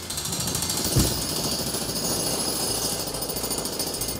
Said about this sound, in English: This is a jackhammer.